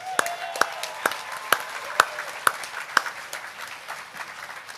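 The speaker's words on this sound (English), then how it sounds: "One more round of applause" An audience at the Australian National Maritime Museum claps in unison after a line-dancing performance at a Vietnamese migration ceremony. The claps are steady and evenly spaced, about two per second, and grow softer toward the end.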